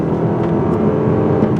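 A 2023 Lexus ES 300h hybrid sedan pulling away at low speed and low RPM, a steady muffled engine and road hum with faint whir, alone and fairly close.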